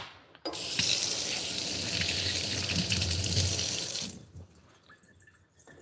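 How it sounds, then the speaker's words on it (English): Dishes from the night before are washed under a running kitchen tap, a steady rushing gush of water for about four seconds before it shuts off, followed by faint clinks. "I'll wash it and"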